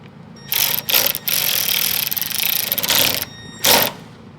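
A power tool tightens a fender bolt on a 2014–2021 Toyota Tundra, heard as loud close bursts of mechanical ratcheting whir with short pauses between them and no talk.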